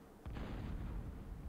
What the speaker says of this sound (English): The Guardian will start sniping thuds.